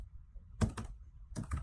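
Keys tapped on a computer keyboard in two short bursts of a few quick clicks each, close by and fairly quiet, with no voices.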